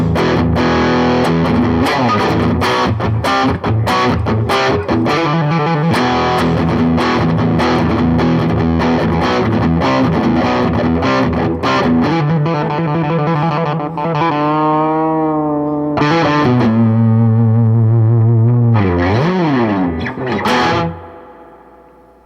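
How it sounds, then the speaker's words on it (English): Loud, heavily distorted electric guitar, amp turned up to 10, plays sustained chords and bending notes with a thick, buzzy tone before cutting off abruptly. "I'm going to turn it up to 10 now. Get some real distortion going."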